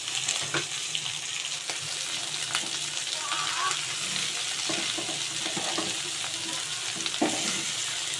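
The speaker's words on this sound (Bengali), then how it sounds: "আপনারটা ভেজে নেবো কালো জিরে কাঁচা লঙ্কা দিয়ে তেলের মধ্যে দিয়ে নাড়াচাড়া" Black cumin seeds and green chillies fry in hot oil and are stirred, making a steady moderate sizzle with scattered spatula scrapes and taps.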